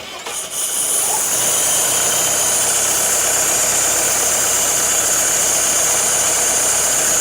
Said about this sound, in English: you can press the green button to engage, start the engine